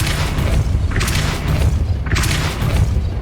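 A Depulso force spell cast in the PS5 video game Hogwarts Legacy, a loud, dense booming roar with two whooshing surges rising over a steady low rumble.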